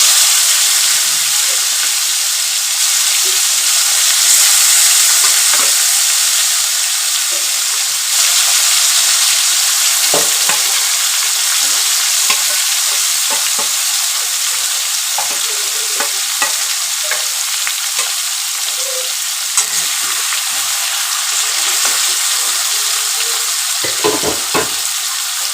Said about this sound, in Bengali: ফোড়ন দেওয়ার পরে ম্যারিনেট করা মাংসটাকে আস্তে করে তুলে দিলাম